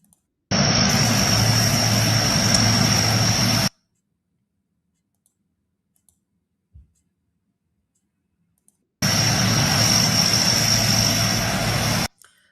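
A propeller aircraft engine drones loudly and steadily in two separate bursts of a few seconds each, with near silence and faint clicks in between.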